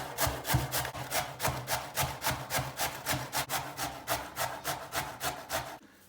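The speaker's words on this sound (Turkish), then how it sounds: "Önce patatesleri bir rendeleyeceğiz." Potatoes are rubbed against a hand grater in quick, regular strokes, each one a close, crisp scrape in a steady back-and-forth rhythm, about two per second, that stops abruptly at the end.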